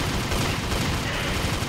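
Rapid, continuous gunfire from a Minecraft gun server game, a dense unbroken burst of loud shots filling the whole short stretch with no talk over it.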